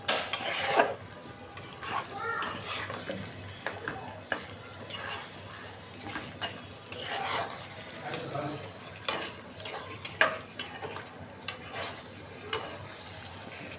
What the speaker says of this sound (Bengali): মশলার সাথে একটু কষাই নিই।